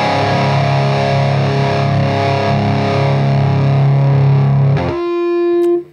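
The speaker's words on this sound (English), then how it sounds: "the first thing we want to do is focus on an overdrive. So I'm just going to put that right up the front here. And let's turn it on." An electric guitar plays through an overdrive tone from a Boss GT-1000 into a tube amplifier, sustaining a loud distorted chord that shifts to a new ringing chord near the end before cutting off.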